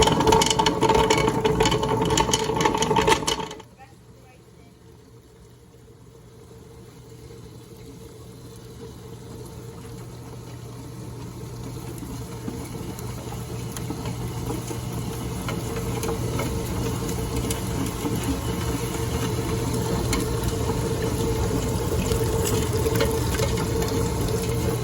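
An Ultra Dura wet grinder churns rice with water, a steady mechanical whir and sloshing that starts loud, drops abruptly after a few seconds, then slowly builds back to a constant grinding drone.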